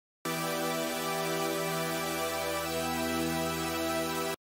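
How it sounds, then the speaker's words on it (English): Sustained buzzy synth chord of two heavily detuned saw waves, with thick, bright harmonics and a slight shimmering beat, steady and loud from start to finish, no voices. "it's just two saw waves and they're very detuned"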